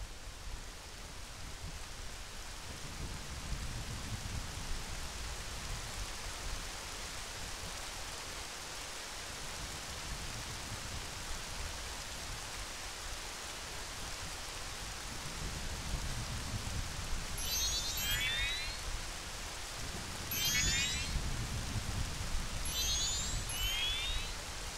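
Steady rain falls in the video game Zelda: Majora's Mask, a constant broadband hiss with low rumbling swells, joined near the end by a few short bright chiming game sounds.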